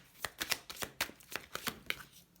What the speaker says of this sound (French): on va poser une carte sur ce set de bâtons.